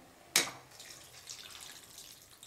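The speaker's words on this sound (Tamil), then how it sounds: "இப்போ 1/4 கப்பு தண்ணி சேர்த்துக்கலாம்." A quarter cup of water splashes into okra rice in a pot, with one sharp initial splash followed by a soft, fading trickle.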